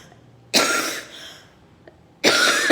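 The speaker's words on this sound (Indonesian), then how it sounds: "masih ada batuknya" Two loud, harsh coughs close to the microphone, a second or so apart, each a rough burst with a faint tail, in an otherwise quiet room.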